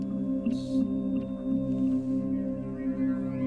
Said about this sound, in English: Yeah, the noise is coming from the fan.